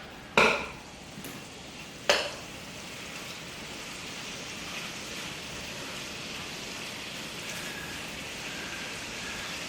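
Shrimp sizzling in butter in a pan, a steady soft crackle from start to finish with two sharp clatters near the beginning, no talking.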